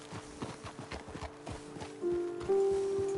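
Horse hooves clip-clop at a walking pace on the ground in the Red Dead Redemption 2 video game, a steady rhythmic series of close thuds that is joined near the end by a sustained droning tone.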